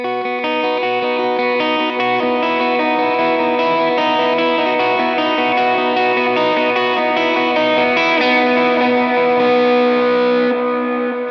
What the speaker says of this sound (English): that section with all the effects will sound like this